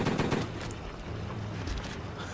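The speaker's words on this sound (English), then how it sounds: "That is some gun sound effect." Rapid burst of video game gunfire crackling over a busy in-game background, strongest in the first half-second and then settling into a steady, dense wash of shots and noise.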